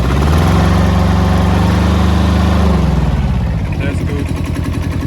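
Iseki SG15 ride-on lawnmower engine running steadily nearby, a loud, even mechanical drone whose pitch shifts slightly partway through.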